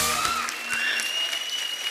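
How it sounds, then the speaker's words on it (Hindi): Studio audience applause on the Kapil Sharma Show, a comedy talk show, greeting women cricketers as they are introduced: a dense, steady wash of clapping that fills the whole stretch with a faint tonal layer behind it. "जोरदार तालियां।"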